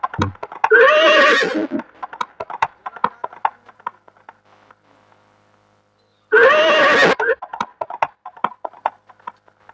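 Loud, close horse whinnies from a nauntanki folk theatre performance: two long neighing calls separated by a pause, with scattered clip-clop hoof beats and clatter running through and between them.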